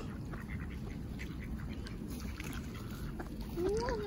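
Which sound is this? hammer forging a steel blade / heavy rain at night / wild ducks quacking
wild ducks quacking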